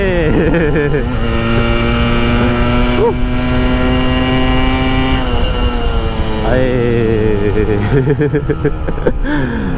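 A Yamaha RX 115 motorcycle engine revs hard and close, its two-stroke note swelling and dropping repeatedly in loud bursts over ten seconds, with short pitch sweeps as the throttle is blipped.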